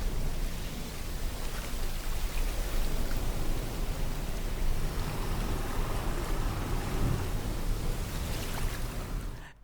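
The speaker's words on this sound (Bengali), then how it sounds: "দেখতে পাচ্ছেন এখানে বৃষ্টির সাউন্ড অলরেডি আমি পাচ্ছি।" Recorded rain plays back from a relaxation sound website, a uniform, broadband steady hiss of rainfall continuing evenly throughout without voices before cutting off at the end.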